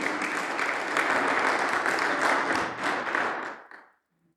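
A church congregation claps loudly and steadily in praise, a dense close wash of hands that fades out and stops near the end.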